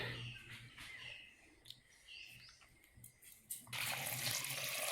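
Faint trickling water runs quietly, then swells into a louder, fuller stream of water pouring into a pot of rice and chickpeas near the end.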